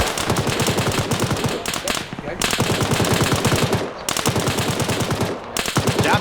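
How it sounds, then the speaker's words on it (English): Rapid automatic gunfire in a video game rattles loudly and almost nonstop, broken by a few brief pauses between long bursts. "I'll wait for the gunfire to stop."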